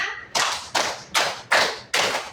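Fifth-grade pupils in a classroom clapping together to a counted beat, five sharp group claps at a steady, even pace, close and clear with no talk.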